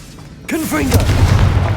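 A Confringo blasting spell goes off in Hogwarts Legacy inside a tomb, a sudden loud boom that swells into a sustained rumbling blast, preceded by a sweeping magical whoosh.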